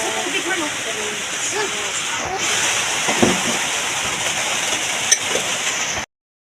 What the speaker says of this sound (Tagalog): Ang ulan way kaundangan ang ulan guys.